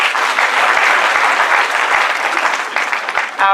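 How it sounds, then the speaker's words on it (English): Audience at an intercultural conference applauding in a dense, continuous burst of clapping for the whole stretch, close and loud, with no speech over it. "Can you please give him another round of applause, please?"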